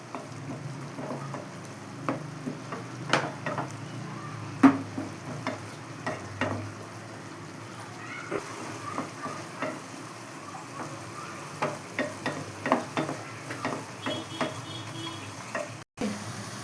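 Chopped onions for an egg curry being fried and stirred in a pan, a steady close sizzle broken by repeated spatula scrapes and taps against the metal, with no talking.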